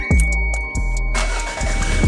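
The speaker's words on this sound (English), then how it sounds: "Let's crank it up" A 1992 Toyota MR2 Turbo with a 3S-GTE engine, still partly taken apart, cranks in several short rhythmic starter pulses before catching and settling into a loud, steady running rumble close by.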